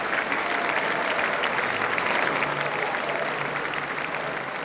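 A dense, steady roar of cheering and applause from a large crowd in a hall at a Conservative Party conference, continuous and loud throughout with no pauses.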